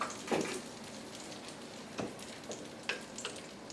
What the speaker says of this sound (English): our butter is just about melted